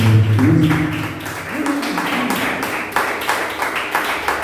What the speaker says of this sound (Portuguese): Aplausos para o povo do Deus